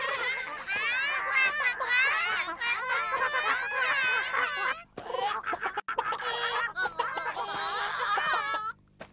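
Chickens cluck and squawk loudly and continuously at a chicken and duck sports contest, with dense overlapping bird calls, a brief lull near the middle, then more clucking.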